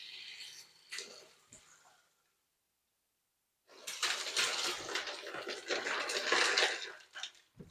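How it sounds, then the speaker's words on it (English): Water is poured to top off a container of brine with ice in it, used for soaking alligator meat. A short splash comes first, then a pause, then a louder, steady rush of water lasting several seconds. "And then we're going to top it off with some more water."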